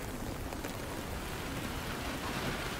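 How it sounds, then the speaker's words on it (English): Steady rain falls in the video game Ready Or Not as a dense, even hiss of drops on surfaces, continuous and fairly soft, with no voices. "the rain with the environment, top tier sound production"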